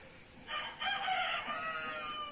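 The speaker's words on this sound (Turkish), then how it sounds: "Benim horozlar da büyüdü artık ötmeye" A young rooster crows once, a drawn-out strained call, faint and somewhat distant, with no talking.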